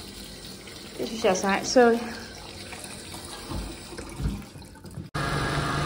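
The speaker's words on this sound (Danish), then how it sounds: "her skal man tænde vand her" A tap runs in the small bathroom of an American bus, a steady splashing stream under speech, then the flow turns sharply louder and fuller near the end.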